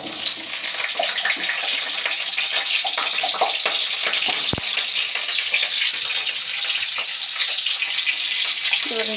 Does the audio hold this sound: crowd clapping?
no